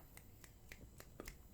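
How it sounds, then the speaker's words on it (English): Several quiet, sharp finger snaps follow a poem recited on a podcast, spaced at an irregular rhythm and sounding faint against the room's background. "I'm snapping my fingers because that's what you do after a poem."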